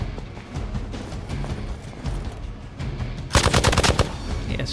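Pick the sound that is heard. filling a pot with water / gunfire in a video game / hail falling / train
gunfire in a video game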